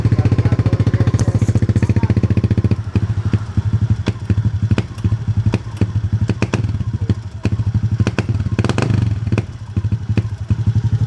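A 2019 fuel-injected Honda Beat scooter runs poorly: a steady idle at first, then an uneven, stumbling engine note with irregular clattering pops and thumps, loud and close.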